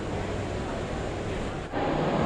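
Heavy rain pours down outside a building in New Orleans, heard from indoors as a dense, steady hiss with one brief dip before it resumes.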